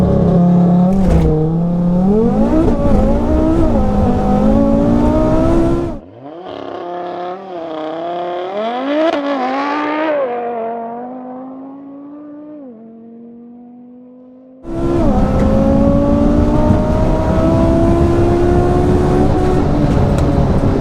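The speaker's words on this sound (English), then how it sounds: "that crazy little RS3 hits the quarter mile in a mind-blowing time of just" A 1016 bhp Audi RS3 makes a quarter-mile street drag run. The engine roars close and loud as it climbs through the gears, drops away into a fading whine, then returns with a full-power roar.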